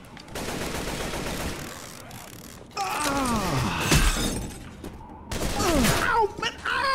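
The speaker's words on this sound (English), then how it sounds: "Why are you shooting me?" Gunfire rattles through a Left 4 Dead 2 match in loud bursts separated by brief gaps, mixed with breaking and shattering noises and other game sounds, with voices talking underneath.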